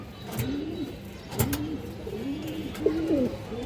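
Indian high flyer Kaldum pigeons coo in a steady series of soft, throaty calls, several overlapping phrases close by over faint background noise.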